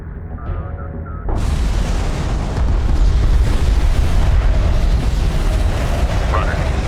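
An enemy interceptor blows up in the desert strategy game Homeworld: Deserts of Kharak, a loud, sustained blast roar that swells abruptly after a quieter opening and rumbles on for several seconds.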